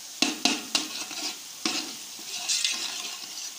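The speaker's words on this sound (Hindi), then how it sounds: "प्याज मेरा ब्राउन होने वाला है, मैं ज़्यादा ब्राउन नहीं करती" Onions fry in a pan with a bright, continuous sizzle, as several quick scraping strokes of stirring cut through near the start and once more a little later.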